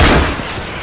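Grenade explosion in the zombie shooter Left 4 Dead 2, a loud, close boom that hits at once and then fades over under a second.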